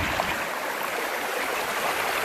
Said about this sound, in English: It's got a lot of water flowing through it